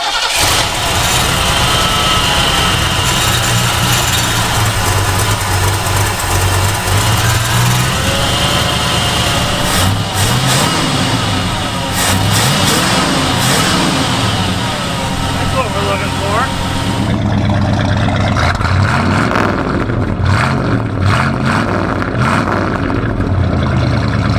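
A Ford Ranchero engine fed by a Motorcraft 2-barrel carburetor cranks, catches and runs loud and rough, revs rising and falling for a long stretch before dropping toward idle, with people talking over it.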